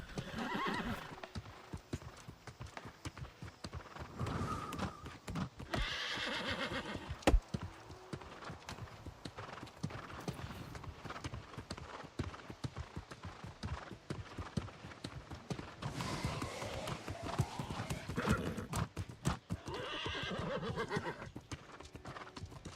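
Steady clip-clop of hooves from a galloping horse mount in the video game New World, with occasional neighing and whinnying, continuous and fairly close throughout.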